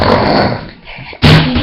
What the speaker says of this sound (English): You're snoring really loud.